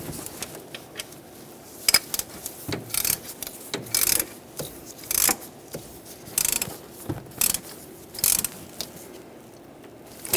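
Ratchet clicks in short bursts while snugging an oil pressure switch on a 1995-2004 Toyota Tacoma, with pauses and mechanical rubbing between strokes, close and fairly loud with no talk.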